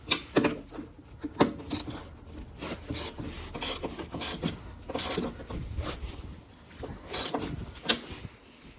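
Snowblower part being tightened back up with a hand tool: rasping, scraping metal-on-metal strokes in irregular bursts, close and fairly loud, with no talking.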